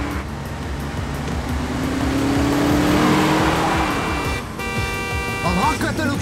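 A car driven fast and hard by a frantic group racing to a hospital, its engine droning and rising in a steady surge that swells midway, with overlapping shouting voices and music cues on top.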